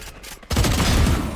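Sudden burst of rapid automatic gunfire in a tactical shooter video game, a dense loud volley starting abruptly after a brief quiet moment and continuing to the end.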